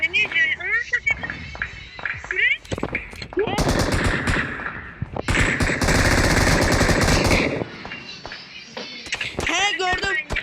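Rapid automatic gunfire in the PUBG Mobile video game, loud sustained bursts with gaps between them, while players talk over the shooting and at the start and end.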